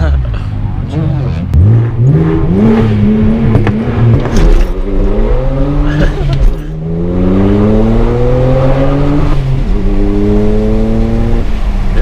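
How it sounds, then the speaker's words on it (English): A BMW car's engine revs hard and loud during a burnout, its pitch climbing and falling repeatedly, with a few sharp backfire pops cracking through the roar. "It started doing backfires."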